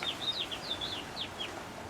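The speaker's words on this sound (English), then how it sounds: "And listen to that happy little bird." A small bird sings outdoors with a run of short, high chirps and trills, faint and somewhat distant against quiet background noise.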